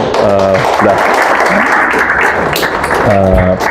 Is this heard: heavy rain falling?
no